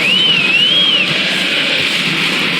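A referee's whistle during an NBA basketball game between the Los Angeles Lakers and Detroit Pistons sounds once as a steady, wavering shrill tone of about a second, rising above loud, continuous arena crowd noise.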